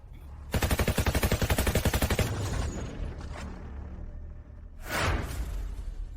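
Rapid burst of machine-gun fire, about twenty sharp shots in quick succession, followed by a rumbling echo and a single loud blast with a whooshing tail, close and loud.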